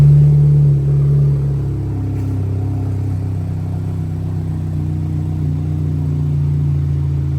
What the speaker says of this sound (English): So it's on fast idle, so they change sounds considerably when the idle comes down